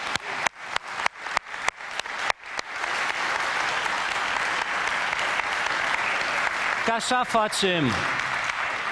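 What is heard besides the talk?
congregation applauding in church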